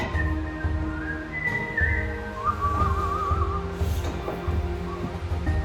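A person whistles a wandering tune in short phrases over a low background hum and some clatter while cooking rogan josh in a kitchen.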